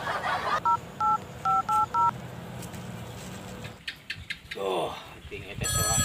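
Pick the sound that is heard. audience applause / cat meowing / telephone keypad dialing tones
telephone keypad dialing tones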